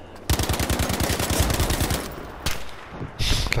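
STG 44 assault rifle firing full-auto in the video game Battlefield V: a loud, rapid stream of evenly spaced shots for almost two seconds, then a single shot and a short final burst amid game noise.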